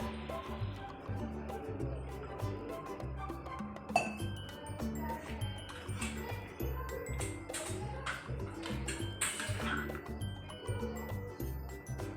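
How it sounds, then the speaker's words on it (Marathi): Water is poured into a pan of egg tawa fry, a soft steady liquid trickle with a few faint clinks, quiet and close, running for about twelve seconds without speech. "तर आपण याला थोडंसं पाणी टाकूया."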